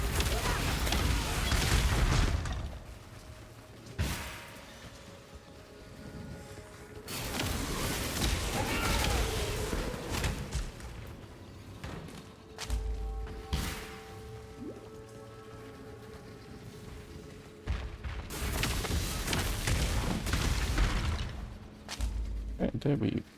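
Repeated bursts of explosions in the video game Path of Exile crackle and rumble in dense, noisy waves, with a player talking over the game sounds.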